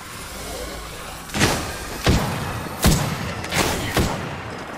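Explosions in the shooter game Apex Legends, a series of five sharp booming blasts spaced under a second apart over a steady background rumble, close and loud with no talking.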